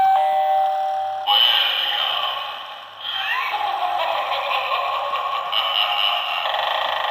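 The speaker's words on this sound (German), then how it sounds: "diese Klingel. Die habe ich mir jetzt gekauft vor kurzem für Halloween." A Halloween doorbell chimes electronically, a bright melodic tone that repeats in several bursts, loud and close with short gaps. Speech-like audio mixes in with the chimes.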